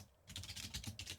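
Rapid, light clicking of fingers typing on a computer keyboard, a quick uneven burst of keystrokes heard up close.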